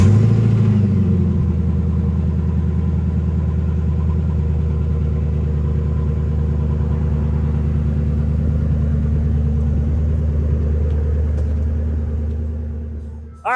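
A car fires up at an outdoor car show and settles into a loud, deep, steady rumbling idle with slight revs, close by, then cuts off sharply at the end.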